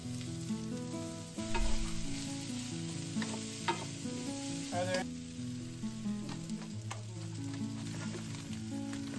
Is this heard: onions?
yes